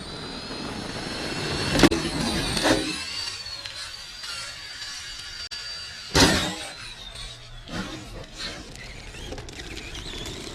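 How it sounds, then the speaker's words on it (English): A Traxxas Summit RC truck bashes across rocky terrain, its electric motor whining in surges with two sharp clattering impacts from landings on the rocks, close and moderately loud. "There we go, Summit. Getting a little air. Rough terrain."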